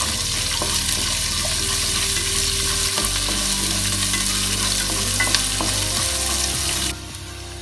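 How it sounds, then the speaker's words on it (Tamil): Onion, green chili and curry leaves fry in a pan for millet upma, giving a steady, loud, close sizzle with light stirring scrapes throughout that drops off slightly just before the end. "இப்போ வெங்காயத்தை போட்டுக்குவோம். அது கூடவே பச்சை மிளகாயும் போட்டுக்கலாம். கொஞ்சமாக கருவேப்பிலை. இதை போட்டு நல்லா செவக்க வறுத்துக்குவோம்."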